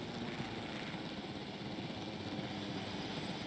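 A steady, even helicopter rotor drone from Jurassic World Evolution, a continuous medium-loud whir that holds without change, with no talking.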